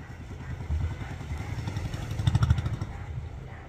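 A small engine on a large bangka boat under test runs with a rough, uneven chug, its pulses growing louder and more forceful near the end before easing off.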